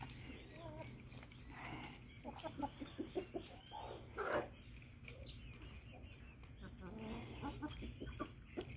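Chickens cluck and squawk near and far while being fed chayote from a bucket, with scattered pecking and rustling over a steady farmyard background, and a person speaks at times.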